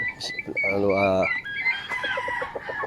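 A rooster crows loudly and close by, one drawn-out call, surrounded by clucking and other fowl calls, with a voice talking in the background.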